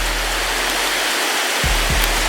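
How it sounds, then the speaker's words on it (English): A waterfall roars as a steady, loud, broadband rush of falling water, close by and continuous with no talk over it. "Wow, and there is the waterfall."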